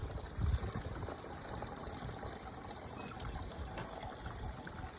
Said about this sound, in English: now we can just lift that out and let it drain